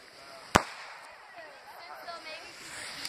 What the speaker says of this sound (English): I shot off some confetti things.